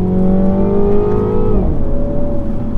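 A Mini John Cooper Works 231 hp sporty exhaust revs loudly up to a high note and drops back, a throaty roar close by with no voices.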